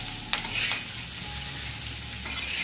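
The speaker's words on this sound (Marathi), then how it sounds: "थोडीशी हळदी टाकायची आपल्याला अशी, आणि मस्त असं हलवून घ्यायचं याला" Turmeric is stirred into masala frying in a pan, making a continuous close sizzle with a few sharp scraping strokes of the spoon; nobody speaks.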